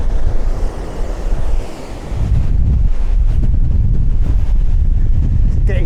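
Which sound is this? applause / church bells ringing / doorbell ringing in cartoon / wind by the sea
wind by the sea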